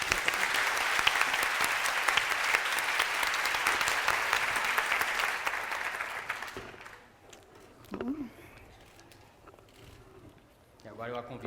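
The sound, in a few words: audience applause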